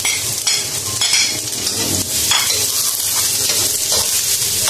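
Onions sautéing in a pan for goat kaldereta, a steady loud sizzle with stirring scrapes and occasional utensil clinks throughout, no talking.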